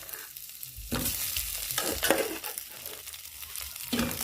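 Boiled potatoes hit a pan of frying onions while cooking Kenyan mukimo, giving a loud burst of sizzling with repeated scraping stirs that swell and ease over a few seconds, with no talking.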